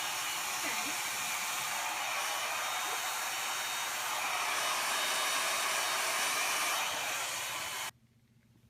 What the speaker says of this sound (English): you know the hotel hair dryers always sort of, you can just feel that they're making your hair frizzy